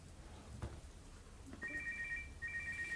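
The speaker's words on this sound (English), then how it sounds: "Which phone is that? That's the second time it's gone off." A mobile phone ringtone goes off faintly in a quiet interview room, a repeating electronic beeping pattern that starts partway through, stops briefly, then resumes over low background hiss.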